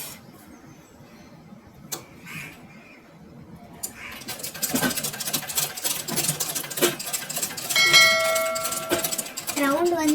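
A sewing machine stitches a round curve in practice cloth at a tailoring lesson, running slowly: a quiet start with a few ticks, then a steady mechanical whir and rattle that grows louder toward the end.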